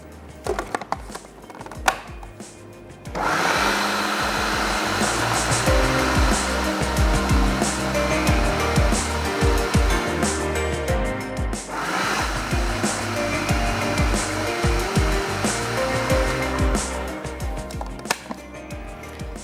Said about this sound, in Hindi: चलिए अच्छा सा पीस लेते हैं।